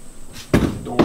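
A greenhouse door bangs open and latches shut, two sharp knocks close by with a rattle between them.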